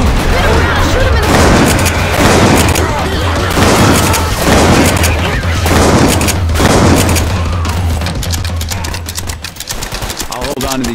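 Dense, continuous gunfire and booming blasts from the zombie shooter game Left 4 Dead 2 on the custom map Qiuming City, loud and sustained throughout, easing slightly near the end, with players talking over it.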